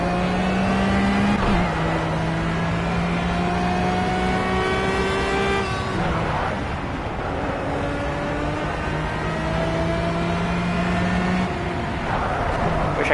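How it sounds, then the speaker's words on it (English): Engine of a race car lapping the Nurburgring in a racing video game, steady loud whine with repeated rising pitch sweeps through gear changes, continuous for the whole stretch with no voices. "This car just isn't so easy to drive as an LMP2 car."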